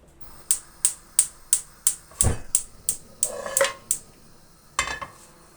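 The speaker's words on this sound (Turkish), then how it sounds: "Önce ocağımı açıyorum." A gas stove igniter clicks rapidly about a dozen times in a steady rhythm, close by, with a soft whoosh as the burner catches.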